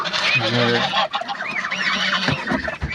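Loud, close honking calls from ducks overlap in a noisy flock chorus in a garden, with wavering cries throughout.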